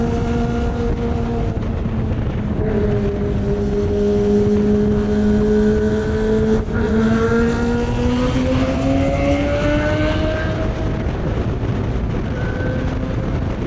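A motorcycle rides along a road on a Sunday morning group ride near Limpakuwuk, Purwokerto. Its engine drones loudly and steadily, with the pitch slowly rising as it speeds up, under constant wind and road rumble.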